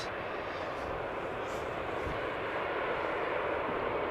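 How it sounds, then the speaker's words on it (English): An EasyJet airliner at Amsterdam Schiphol leaving the runway after landing, its engines giving off a steady, moderately loud broadband roar and whine, with no clear changes. "EasyJet also vacating the runway over here at the first exit."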